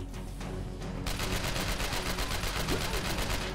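Rapid automatic gunfire comes from the video game Manhunter Kriegs Simulator 2002. A quieter stretch gives way to a loud, steady string of evenly spaced shots that keeps firing to the end.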